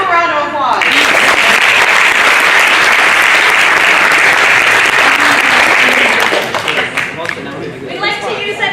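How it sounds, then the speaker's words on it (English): Audience at an awards event bursts into loud, continuous applause mixed with cheering and chatter, sustained for several seconds before thinning as voices return. "Let's give them a round of applause."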